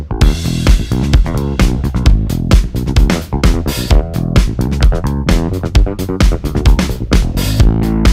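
A Retrovibe Strap bass guitar plays a punchy, driving line of repeated plucked notes, loud and unaccompanied by speech, over a dense full-mix backing.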